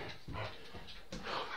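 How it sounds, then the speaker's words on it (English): A dog whimpers and pants softly in short bursts, close by and quiet, over a faint background hum. "Dog, stop. It's enough."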